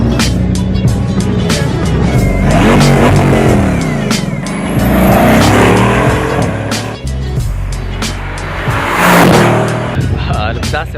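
A Bugatti Chiron supercar roars loudly and close by, its engine revving and accelerating in rising sweeps with tire noise, surging repeatedly over about eleven seconds while people talk and shout excitedly underneath.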